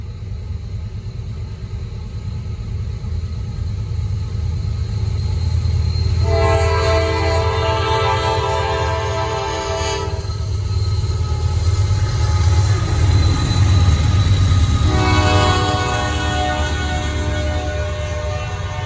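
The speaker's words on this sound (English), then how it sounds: "This is my last train right here." A Norfolk Southern freight train led by two C6M locomotives rumbles past close by, with a steady low roar and clattering wagons, while a horn sounds in long bursts over the rolling noise.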